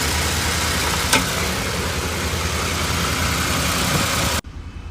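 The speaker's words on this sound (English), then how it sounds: "Customer states check engine light on and engine runs bad." A car engine that runs badly with the check engine light on idles in a steady, rough drone close by, continuous for about four seconds before cutting off abruptly near the end.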